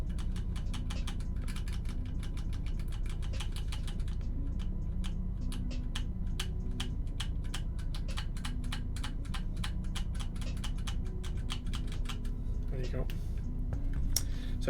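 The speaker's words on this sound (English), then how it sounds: "that is bottoming out when I'm typing" Steady, fast typing on a prototype mechanical keyboard whose keys bottom out, a dense run of crisp clacks under a low background hum.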